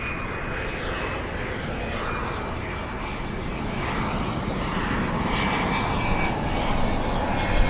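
Southwest airliner on its takeoff roll from runway 24 left at LAX, a loud, steady broadband engine roar with a thin whine that holds and slowly swells, heard from a distance without talk.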